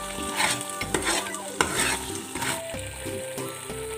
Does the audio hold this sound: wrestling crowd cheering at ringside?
no